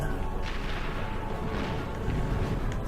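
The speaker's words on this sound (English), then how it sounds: "the fire rate on this turret, it's slower than the previous one" Turret fire in Ratchet and Clank: a continuous stream of dense, booming game shots and crashes, loud and unbroken throughout, with no talk over it.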